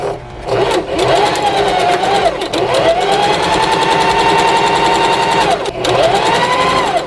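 A sewing machine stitches the side seams of a McCall's 8069 garment at a 5/8-inch seam allowance. Its close, loud motor whine runs in three long bursts, rising and settling in pitch, with short pauses between stitching runs and no talking.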